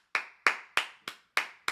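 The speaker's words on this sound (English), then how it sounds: "I gotta give a clap it up" Six crisp hand claps ring out at an even, slightly quick pace, each a sharp close slap with a short decay and silence in between.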